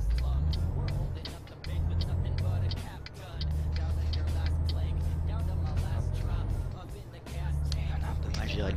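Truck in Euro Truck Simulator 2 accelerating, a low steady engine drone that rises in loudness, dips briefly twice as it shifts gears, and resumes, with someone talking over it throughout.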